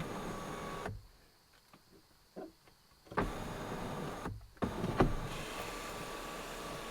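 Power window motor on a Ford Lightning pickup running as the window closes, a steady close whirr with a brief pause and a second burst, fairly quiet, no talk.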